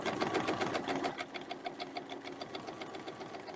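A sewing machine runs steadily while stitching a quilt design for a winter wonderland quilt, its fast, even needle pulses close and continuous, with no voices over it.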